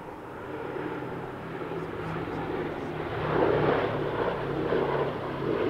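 Sally B, a wartime aircraft, flies at an airshow, its steady engine drone spreading across the field at moderate distance and swelling slightly midway, with a voice talking over it.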